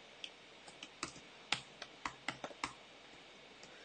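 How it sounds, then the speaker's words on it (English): Light keystrokes on a computer keyboard tap out an uneven run of about a dozen soft clicks, close and quiet over a faint hiss. "I messed it up because I was typing and talking at the same time."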